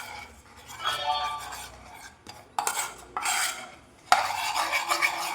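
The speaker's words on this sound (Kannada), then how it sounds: "ಇದನ್ನು ನೀಟಾಗಿ ಇವಾಗ ಮಿಕ್ಸ್ ಮಾಡ್ಕೊತಾ ಇದ್ದೀನಿ" A spoon scrapes and stirs a milk mixture in a bowl, clinking against the sides in irregular strokes and louder bursts, close and alone without talk.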